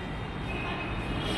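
Inside a Pune Metro train, a steady low rumble of running carriages fills a short stretch, even and unbroken with no clear voices.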